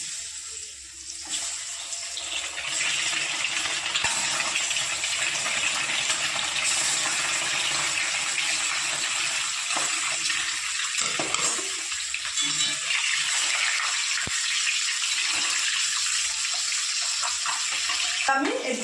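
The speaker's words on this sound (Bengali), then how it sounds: "এবার গরম তেলে এক এক করে ডিমগুলো আমি ছেড়ে দেবো" Eggs coated in turmeric and chili powder sizzle as they are dropped one by one into hot oil, a steady loud hiss of frying that fills the stretch with little variation.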